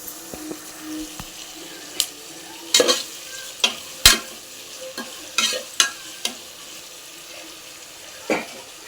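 Onions sautéing in oil for chicken biryani, a low sizzle under intermittent sharp scrapes and knocks of a spoon stirring the pan, close up with no talk.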